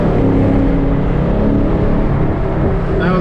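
A BMW 335i fitted with downpipes pulls hard in a short street race rematch, its loud engine roaring steadily and close throughout, with a rising whine near the end.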